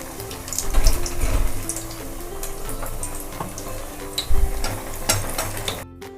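Bread cutlets deep-fry in hot oil with a busy sizzle and crackle, broken by a few louder bursts as pieces are turned, ending abruptly, with no voices.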